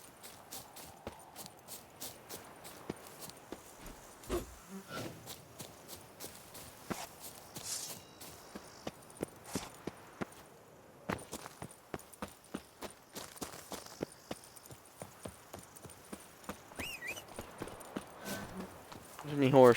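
Horse hooves clip-clopping in The Witcher 3 as Geralt rides Roach, a steady run of sharp, regular hoofbeats with a few pauses, moderately loud and heard under occasional talk.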